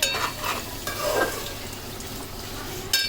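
A curry simmering and frying in a pan on the stove, with a steady close sizzle and bubbling, plus a few soft scraping stirs and a brief utensil clink near the end.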